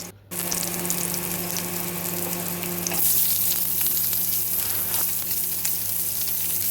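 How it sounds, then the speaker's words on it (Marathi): Chopped onions fry in hot oil with garlic in a pan for a Goan crab masala, a steady loud sizzle throughout that grows slightly brighter partway in. "2 कांदे चिरून घातले।"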